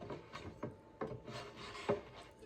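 A loose plywood panel slides and knocks inside an alloy channel, giving several short wooden scrapes and bumps close by, with quiet rubbing between them.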